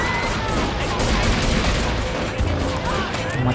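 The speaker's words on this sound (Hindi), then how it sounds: "मत चलाओ गोलियां, शहर उड़ जाएगा।" Dense, continuous gunfire and blasts fill a GTA 3 mission in Liberty City, a loud, unbroken barrage of rattling shots with no pauses.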